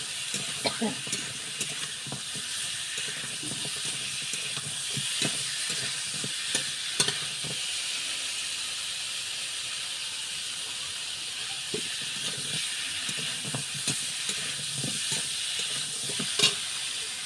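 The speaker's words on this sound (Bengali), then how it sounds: "আলুটা ফেল দিলাম সুন্দরভাবে তেলে" Potatoes frying in oil for an egg, potato and bori curry, giving a steady broadband sizzle with intermittent stirring and scraping knocks throughout, close and moderately loud, with no talk.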